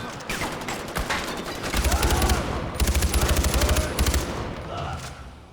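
Sustained automatic gunfire in Far Cry 4 against armored enemies, with dense rapid shots, heavy low thumps and intermittent bursts layered over busy combat noise and faint voices.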